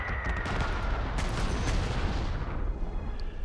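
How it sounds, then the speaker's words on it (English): Artillery fire in the WWII strategy game Panzer Corps 2 at the gates of Moscow, a dense, loud rumble of booming blasts that runs without a break and tails off slightly toward the end. "Artillery."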